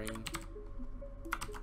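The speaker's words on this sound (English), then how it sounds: "now we can type in string" Keys clatter on a computer keyboard in quick, uneven bursts while someone writes script code, with brief pauses between flurries, close and fairly quiet.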